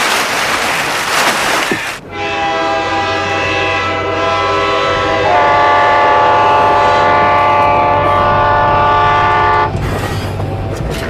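A train's horn blares in one long, loud, sustained blast close by, holding steady for several seconds over the rumble of the rolling train before cutting off.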